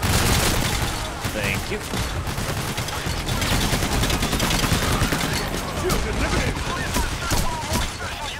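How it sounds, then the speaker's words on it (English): Dense, continuous gunfire rattles through a heist shootout in PAYDAY: The Heist, loud bursts overlapping without pause while players talk over the barrage. "Shooting into the smoke and there's blood everywhere."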